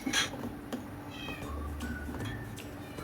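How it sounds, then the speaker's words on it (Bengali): Cats meow indoors late at night, with one loud cry at the start and fainter, drawn-out mewing after it over a low steady household hum. "ঘরের মধ্যে বিড়ালগুলো কান্না করতেছে"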